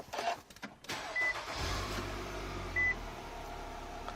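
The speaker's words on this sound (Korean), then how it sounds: "이어서 시동 한번 걸어보겠습니다." A car engine cranks and catches after a short rustle, then settles into a low, quiet idle hum, with two brief electronic beeps.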